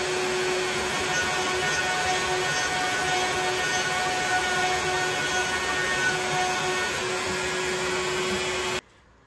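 CNC router cutting a jack-o-lantern shape into a 4x4 wood post, a steady loud whine with a constant high tone running without pause until it stops abruptly near the end.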